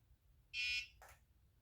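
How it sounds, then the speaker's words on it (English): A CleanWave portable sanitizing wand gives a single short, high electronic beep as it switches, clear and close in a quiet room, followed by a brief soft click. "hold it down, it goes off, it gives a little beep"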